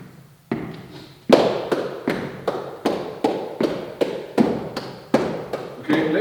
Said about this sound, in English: Let's say I clap the subdivisions